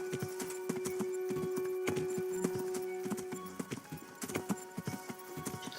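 Horse hooves clip-clop steadily in the medieval role-playing game Kingdom Come: Deliverance, loud and rhythmic over a sustained tonal hum, the trotting becoming more uneven and scattered toward the end.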